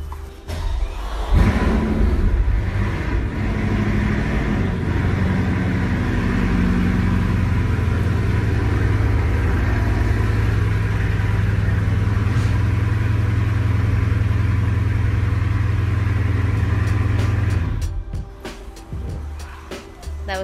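A Hermès-edition Bugatti Chiron starts up and revs in Malibu, a loud deep engine roar held steady for long seconds before dropping away, with brief talk nearby.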